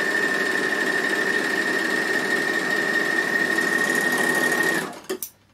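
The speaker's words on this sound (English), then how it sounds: "So I'm just going to go down my raw edges this time, put my foot down and just sew down here." A Bernina L450 overlocker runs fast along raw fabric edges, a loud, steady high-pitched mechanical whir for nearly five seconds that halts with a couple of brief clunks.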